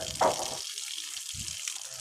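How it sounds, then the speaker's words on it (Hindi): Water pouring down during curing of a new house under construction in a village, a steady close splashing rush with a louder gush near the start and a brief low thump later. "अब नीचे आ रहा है ना पानी"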